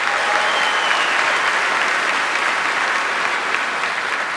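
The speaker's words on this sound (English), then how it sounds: "Want to give a hand clap for Alfred Morris" Sustained applause from a large audience at an award ceremony, a dense, even wash of clapping throughout with no break.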